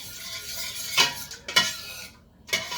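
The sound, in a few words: stirring braised beef in a pot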